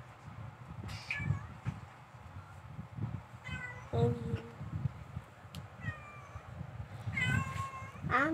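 A cat meows several times, rising and falling cries spread across the clip over a steady low rumble of background noise.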